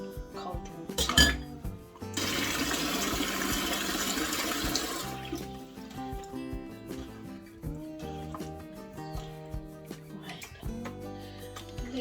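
Water draining and running from a tap into a container in a kitchen sink, with clinks of pots and metal, a steady rush for a few seconds, then intermittent clatter and trickling.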